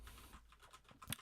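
Rapid clicky mechanical keyboard typing in a key-mashing typing game, a continuous patter of clacking keys with a sharper burst of clicks near the end.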